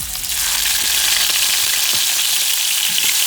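Oxtail pieces drop into hot oil and sear with an immediate, loud, close sizzle that stays as a steady dense hiss, with faint clicks of handling.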